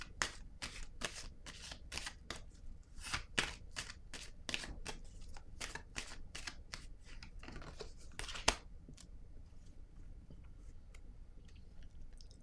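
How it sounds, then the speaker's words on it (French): Tarot cards being handled, shuffled and laid down during a Scorpio reading, giving repeated soft, crisp flicks and slaps in a quick irregular rhythm that thins out toward the end, close and fairly quiet. "Je vais déposer une autre carte."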